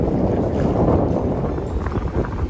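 Steady wind buffeting the microphone on a boat heading down the Mystic River, a continuous low rumble and rush with no one speaking.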